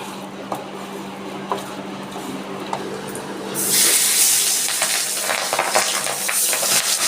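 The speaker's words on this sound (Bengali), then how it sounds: "আমার মাছগুলো ভাজা হয়ে গেছে আমি তুলে নিচ্ছি" Fish, pabda or a small koi, frying in hot oil in a home kitchen, a steady close sizzle that swells louder and hissier midway as the pieces are stirred and lifted out.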